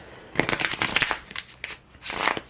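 Tarot cards shuffled by hand in a series of crisp riffling bursts, close and clear, with short pauses between shuffles and no talking.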